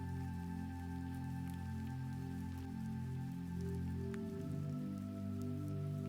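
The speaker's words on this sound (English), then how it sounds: "The sound of rain fills the space around you." Soft rain falls steadily and evenly, a faint continuous patter with occasional clearer drips over a low constant hum, with no voices.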